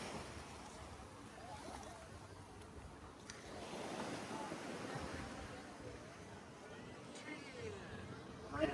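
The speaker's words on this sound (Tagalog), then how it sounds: "Tsaka lumaki yung alon." High-tide ocean waves washing onto Boracay beach, a soft continuous surf rush with gentle swells and some wind, faint and distant, while people talk nearby.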